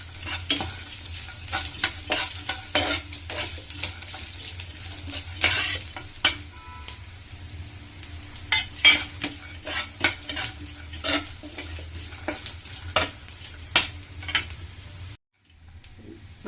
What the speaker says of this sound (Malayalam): ഇളക്കാം. കപ്പലണ്ടി ചെറിയ ബ്രൗൺ കളറാവുന്നിടം വരെ. എല്ലാം ബ്രൗൺ കളറായി വരും. കറിവേപ്പില ഇട്ട് കൊടുക്കാം.